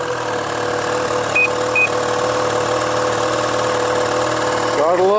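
A vehicle engine idles steadily after a remote start, a close, continuous mid-pitched rumble with a slight vibration throughout and a brief rising tone near the end.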